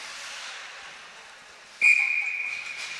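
A referee's whistle blows once, sharp and sustained, at a 16U AA youth ice hockey game, cutting through the steady hiss of arena crowd noise and then trailing off.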